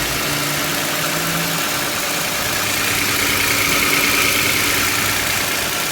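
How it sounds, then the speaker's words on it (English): Engine of a 2008 Toyota Sienna idling steadily with a newly fitted alternator and belt, a continuous broadband hum and whir heard up close with no talking. "The belt is running good. That's the brand new alternator in."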